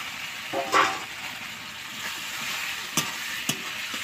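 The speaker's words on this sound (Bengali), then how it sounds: "এবার আমি ভালো করে কষিয়ে নেব।" Onion, garlic, ginger, cumin and chili pastes frying in a pan for a fish curry: a faint, steady sizzle and hiss runs throughout, broken by a few brief spoon scrapes and clinks.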